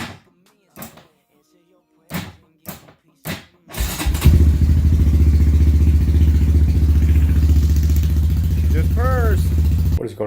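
A motorcycle fitted with a Yoshimura exhaust and a 186 big bore kit fires up after a few thumps and clatters, then runs loud and steady at close range for several seconds, with a brief voice over the engine near the end.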